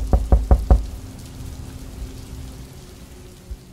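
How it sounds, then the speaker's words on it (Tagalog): Four quick, heavy knocks on a door at night, close and loud, followed by a low rain-like hiss and a faint thud near the end. "may kumakatok daw sa pinto namin"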